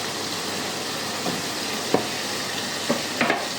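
Fenugreek leaves cooking with spices in a pan, a constant close hiss of frying with a few scattered scrapes and taps of a stirring spoon toward the end, no voices.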